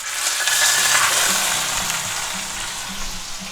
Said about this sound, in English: we're going to sear that on both sides and then we're going to do our edges